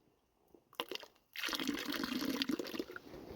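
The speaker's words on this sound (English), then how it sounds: "And we're just going to give it a shot of cold water" A shot of cold water splashes into freshly brewed coffee after a few faint taps and clinks, then a louder, continuous pouring and bubbling sound fills the rest of the moment close up.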